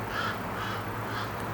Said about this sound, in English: This bird? What kind of bird are you?